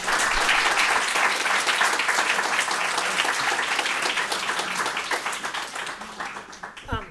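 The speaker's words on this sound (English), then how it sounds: "let's give one more round of applause for Mia" Audience applause after a talk on disability justice, full dense clapping that gradually thins and fades toward the end, with a brief voice near the close.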